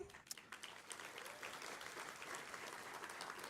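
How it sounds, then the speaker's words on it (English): An audience at a Poetry Out Loud recitation competition applauds steadily, a dense, even patter of many hands clapping at moderate distance, with a few sharper claps near the start. "So please give another round of applause to our 3 judges, Nairi Boyajian,"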